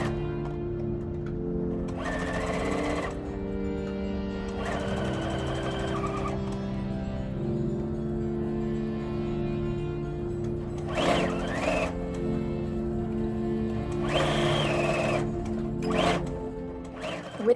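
A sewing machine stitches fabric for a medieval kirtle in several separate bursts of steady mechanical whirring, close and clear, with brief pauses between runs and no talking.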